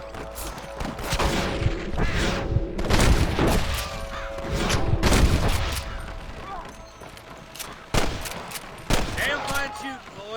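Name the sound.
gunshots in Red Dead Redemption video game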